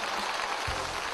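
A studio audience at a Chinese variety show cheers and applauds in a dense, loud, continuous crowd roar throughout.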